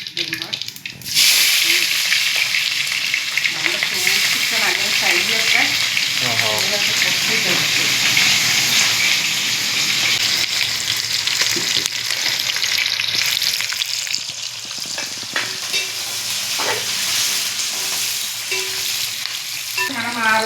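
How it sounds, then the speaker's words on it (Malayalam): Mustard seeds sizzle loudly in hot oil for a Kothamangalam-style chicken curry, a constant close roaring hiss with bursts of popping and occasional stirring, while a voice talks over it in places. "ആ എണ്ണ നല്ല പോലെ ചൂടായി കടുക് ചേർക്കാം"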